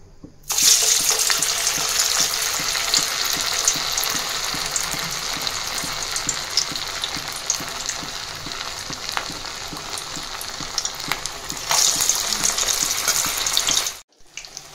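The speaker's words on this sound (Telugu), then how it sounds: "ఇప్పుడు దీన్ని డీప్ ఫ్రై చేయడానికి ఆయిల్లో వేసేసుకోవాలి" Sabudana (sago) vada deep-fry in hot oil with a loud, close, continuous bubbling sizzle that starts abruptly, holds steady for about thirteen seconds, then cuts off.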